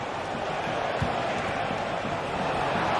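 Stadium crowd noise in a GT Sports league match, a steady, dense roar of many voices at moderate level with a faint thump, constant throughout.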